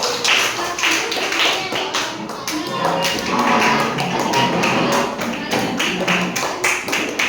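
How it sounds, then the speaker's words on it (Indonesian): A class of elementary school pupils in an Indonesian fourth-grade classroom claps hands together in a dense, continuous patter of quick claps lasting several seconds, fairly loud and close. "Ini tepuk tangan dulu"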